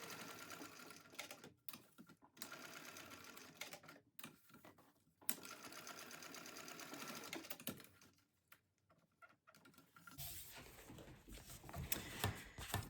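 A sewing machine stitches an X across a tote bag in fast, steady runs broken by brief pauses, heard close with no talk.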